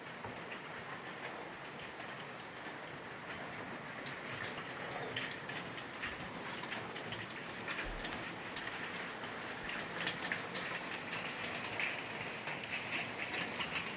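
Steady rain falling through the night, a dense even patter that runs unbroken and fairly loud, with a few brief louder drips and knocks rising out of the wash.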